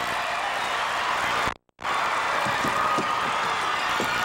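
Basketball crowd cheering for De La Salle at a 1988 Minnesota high school tournament game, a broad, steady roar of many voices, loud and sustained, with a brief dropout partway through.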